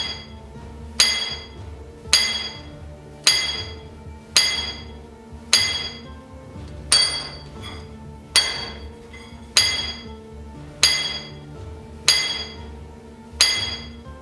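Sharp metallic strikes ring out one after another in a slow, steady rhythm, about a dozen clear hammer blows on a hand drill against rock in a copper mine, each echoing briefly.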